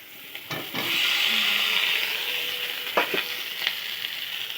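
Potatoes hit spiced oil for a Bengali kuche fish dish, the sizzle surging into a strong, steady hiss after a couple of sharp clatters, then easing slightly with a few more utensil knocks near the end, close and without voices.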